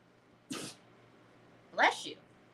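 Two sneezes from a man at a craft table, a short one followed by a sharper, louder one about a second later, both close and in an otherwise quiet room.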